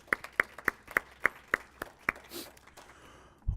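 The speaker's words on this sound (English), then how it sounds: "a round of applause to our entrepreneurs today" A small audience at a valley fast pitch competition gives sparse, evenly spaced claps for the entrepreneurs, about nine distinct slaps that trail off into quiet with a faint murmur at the end.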